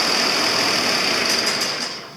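An old 4320 tractor engine runs close and loud, a dense, steady mechanical roar that fades slightly toward the end.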